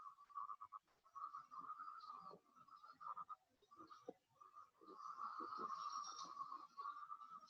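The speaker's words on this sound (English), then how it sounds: "Can you see hundreds and hundreds of frogs are calling there?" A dense chorus of frogs calling in the Western Ghats, with continuous overlapping croaks forming a steady, moderately faint wall of sound and no talk over it.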